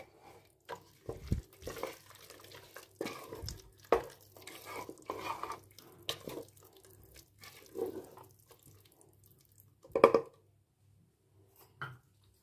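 A spoon stirs and scrapes through thick vegetable khichdi with tomatoes in a pot, with scattered clinks against the metal and one sharper knock near the end.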